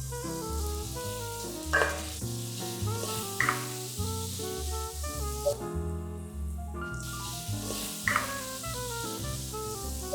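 Ground spices including turmeric sizzle in a pan with water added for an Indian chicken dish, a continuous loud frying crackle with periodic stirring scrapes.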